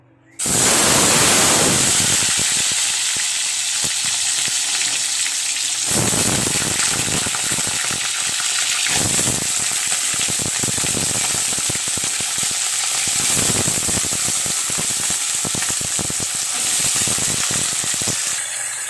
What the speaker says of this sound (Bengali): এরপরে কিন্তু ওই তেলে কিন্তু আমি আবার আলুগুলো ভেজে নেবো।